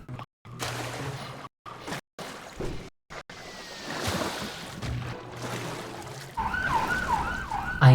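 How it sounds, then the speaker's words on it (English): Emergency vehicle sirens wail outside, a wavering tone under room noise with brief dropouts, rising clearer toward the end. "I don't know if you can hear those sirens."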